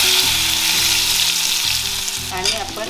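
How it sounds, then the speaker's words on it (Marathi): Asafoetida and ginger-garlic paste sizzle in hot oil, a dense crackling hiss, loud and close throughout the few seconds, over a steady tonal hum that steps in pitch, with no talking. "तेल आपलं मस्त तापलं आहे, आता आपण त्याच्यात थोडासा हिंग टाकूया, लसूण आल्याची पेस्ट टाकूया,"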